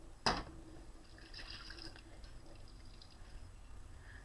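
A can of evaporated milk poured into a pan for homemade fudge: a brief clink, then a faint, steady liquid trickle, quiet and close.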